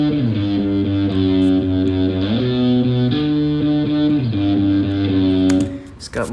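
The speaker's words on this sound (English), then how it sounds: "It's got more drive and distortion, but mainly more drive." Distorted electric guitar riff with heavy drive, sustained chugging chords shifting pitch in a steady pattern, loud and alone before stopping abruptly near the end.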